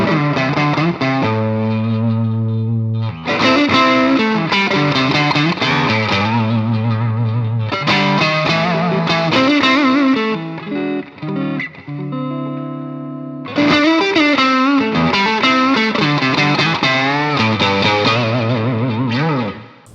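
Electric guitar fitted with an Umeda Modern Alnico M-01 vintage-tone pickup, played hard through distortion: loud, sustained chords and single-note phrases with short pauses between runs, close and alone without talk.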